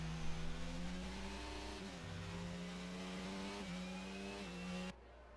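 Simulated F1 race cars in a video game at a Brazil circuit, a steady high-pitched engine whine with rising and falling pitch sweeps as gears shift, loud and close, cutting off abruptly near the end.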